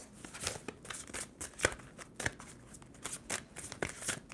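Tarot cards riffle and slap together in quick repeated shuffles, close and fairly quiet, with short pauses between bursts.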